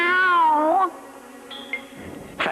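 A cartoon cat gives one loud, wavering meow up close, followed by faint rustles and small effects in a soundtrack.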